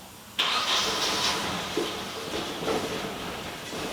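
An abandoned Nissan 240SX, unused for years and holding bad gas, cranks without catching: the starter kicks in abruptly and a steady whirring churn runs loud and close for several seconds.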